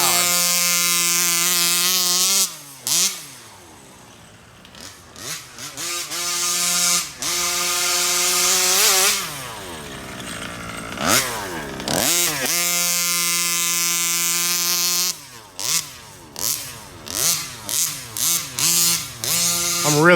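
The stock gas engine of a Rovan FT360R RC car buzzes loudly and revs up and down repeatedly as it passes near and far, with short drops and bursts of throttle.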